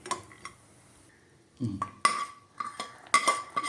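A spoon scrapes and clinks against a pan while rava and sugar powder are mixed with roasted cashews, giving sparse metallic taps and short scraping bursts separated by quiet gaps.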